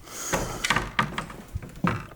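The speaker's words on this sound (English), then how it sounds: "Shut this door though." A door is pushed shut inside an abandoned funeral home, giving a few soft wooden thumps and knocks at close range, with no talking.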